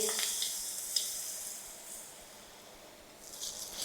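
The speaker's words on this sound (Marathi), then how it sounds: "फोडणी अशी थोडी गरम असतानाच आपल्याला ह्याच्यात ही ओतायची" Hot tempering oil poured into raw mango dal sizzles sharply at first with a couple of bright spits, then settles into a softer, steady hiss that swells again near the end.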